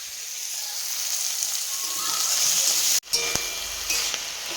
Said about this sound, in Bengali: আলু বেগুন টমেটো পেঁয়াজ কলি সবকিছু ভালো করে একটু হলুদ নুন দিয়ে ভেজে নেওয়া হচ্ছে